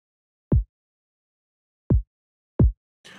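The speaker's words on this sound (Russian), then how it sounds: "я ему срезал верха, чтобы он звучал как пинок такой хороший." A solo kick drum with its high end cut by EQ, three dull, rounded thumps with silence between them, followed by a brief soft noise at the very end.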